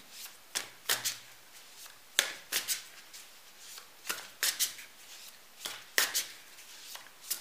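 Tarot cards are shuffled by hand in quick repeated bursts, each riffle a crisp, close flutter followed by short pauses, recurring about a dozen times with no talking.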